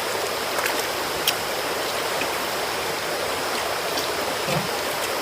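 A forest stream in Tanay, Rizal flows steadily, a continuous broad rushing wash of water with faint splashy ticks, fairly close and without talk.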